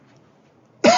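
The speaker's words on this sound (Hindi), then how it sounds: "मुझे खांसी होती रहेगी बीच बीच में" A single sharp cough from a lecturer who is unwell, bursting out loud and close after a near-silent stretch.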